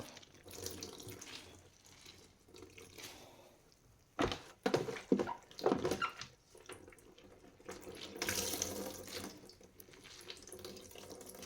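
Wild vegetables such as wild garlic, wild onion and dandelion are washed under a running tap, close water flow with bursts of splashing and squeezing as the leaves are handled, no voices.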